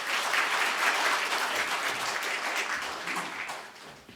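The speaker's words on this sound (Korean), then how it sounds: "큰 박수 부탁드립니다" Applause from an audience at a Buddhist service held at the National Assembly as the Assembly Speaker is called forward, a close, dense burst of clapping that slowly fades.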